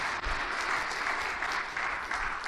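An audience at a lecture claps together in steady, dense applause that carries unbroken from start to finish with no voices over it.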